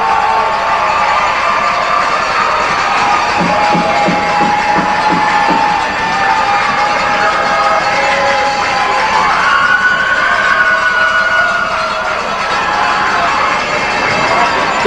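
A high school hockey crowd at an ice arena for a Division II title game keeps up a dense, steady roar of cheering and chatter throughout, loud and continuous, with a faint rhythmic thumping partway through.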